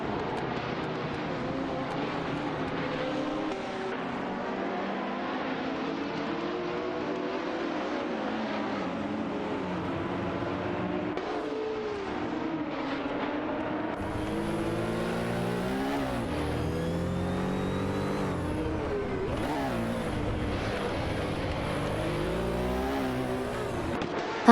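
A Ferrari 512S and a Porsche 917-20 roar through a racing game, their loud engines climbing and dropping in pitch through gear changes and passes, with no pauses for the whole stretch.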